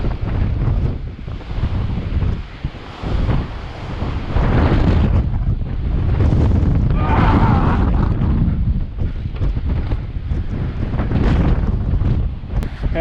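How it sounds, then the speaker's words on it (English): Strong wind gusting through a gap in the cliffs at Devil's Canyon in winter, a loud, continuous roar with buffeting microphone rumble that swells and eases in waves, close and overwhelming, with no voices. "That gap in the cliff right there is just funneling the wind."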